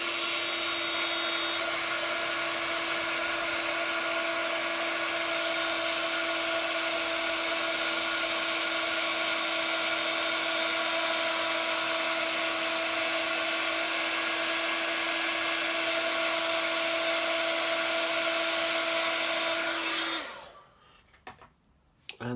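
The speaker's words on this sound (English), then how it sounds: "So bringing in my heat tool." Steady, continuous whir of a heat tool blowing air to set heat embossing powder on copper for a card made with a stamp set, running unbroken and fairly loud before cutting off abruptly near the end.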